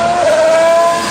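Formula 1 cars (McLaren, Renault and Ferrari among them) racing past during Barcelona testing, a loud, close, high engine scream that holds steady.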